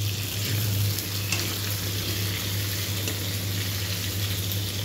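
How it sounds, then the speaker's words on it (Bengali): Pumpkin pieces fry in hot oil seasoned with panch phoron, giving a steady sizzle with a low hum underneath throughout. "এখন কুমড়োগুলো ভালোভাবে ভেজে নেবে।"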